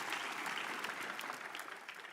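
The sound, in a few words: applause from a church congregation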